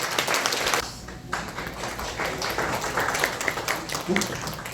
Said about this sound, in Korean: 우리들 모두의 감사의 마음을 담은 박수를 한번 크게 쳐주시면 감사하겠습니다